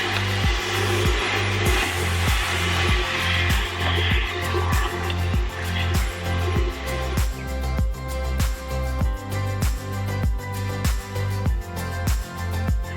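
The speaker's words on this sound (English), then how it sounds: "it's just much easier to vacuum them out first." A Dyson vacuum cleaner runs steadily and fairly loud while vacuuming out drawers, its motor drone broken by a regular rhythmic thumping or knocking as the nozzle works along the drawer, with no talking.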